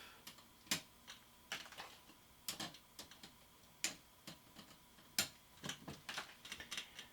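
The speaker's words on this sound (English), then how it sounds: "And then you just cut the leads off." A series of sharp, small snips as component leads are clipped off a DIY audio amplifier circuit board, irregularly spaced, close and quiet.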